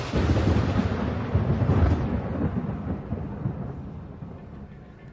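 Deep rolling thunder during a storm rumbles loudly at first, then slowly fades away over several seconds, with a faint hiss of rain beneath it.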